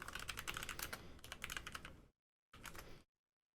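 Someone types fast on a computer keyboard at close range, making a dense patter of crisp clicks that stops briefly and then resumes in a short burst. No one speaks.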